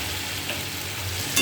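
Potatoes sizzle in hot oil with a continuous nearby crackle and hiss, while a light stirring knock comes near the end.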